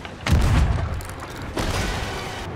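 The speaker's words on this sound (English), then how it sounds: "cannons!" Cannon fire aboard a ship in Sea of Thieves: two heavy booms about a second apart, each a loud low thud with a rumbling tail, sounding close.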